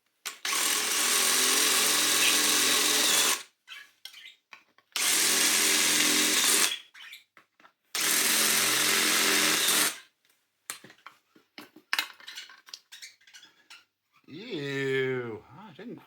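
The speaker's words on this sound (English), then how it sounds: "we're going to need to drill out this bearing" Power drill boring out a bearing on a Hoover Junior 375 vacuum cleaner, three long, loud whirring runs of several seconds each with pauses between, followed by handling clatter and someone talking.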